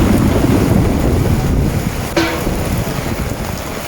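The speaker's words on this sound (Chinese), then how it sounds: "想不到这么大雨哦，真的是说来就来，立刻就是暴雨。" A sudden heavy rainstorm pours down at a street market in Kunming as vendors pack up their stalls. The downpour is a loud, continuous broadband hiss with a sharp brief clatter partway through, and no one speaks.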